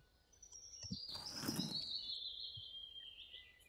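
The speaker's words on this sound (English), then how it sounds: "A bird." Bird call in the walking-simulator game Little Man Has a Day, a faint sustained high chirping trill drifting across the moment while a brief soft rushing burst rises and fades underneath, no voices.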